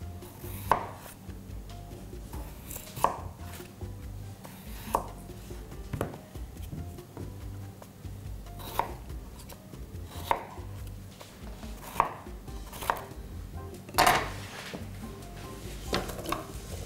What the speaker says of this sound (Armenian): մանր կտրատենք կարտոֆիլը